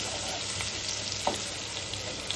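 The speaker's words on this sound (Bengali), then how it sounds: "এই যে তারপর দিয়ে দিলাম পেঁয়াজ কুচি" Chopped onion for mutton biryani frying in hot oil: an even, dense sizzle with faint scattered crackles and a light stir now and then, heard up close.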